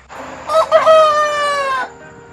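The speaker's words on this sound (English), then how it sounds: "at least one of our chickens has started to crow" A rooster crows loudly and close by, one long drawn-out call that rises and then holds steady before breaking off.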